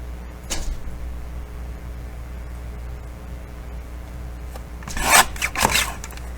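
Material being trimmed off with a tool, a sharp rasping scrape near the start, then two louder close scraping bursts toward the end over a low steady hum.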